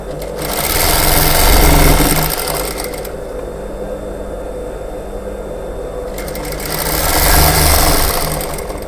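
A tailor's sewing machine stitches a plain blouse through thick layered fabric, running loud and steady for a few seconds, pausing briefly, then running again at close range.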